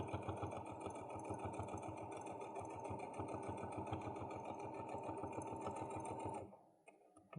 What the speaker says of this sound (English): I'm just sewing it all in place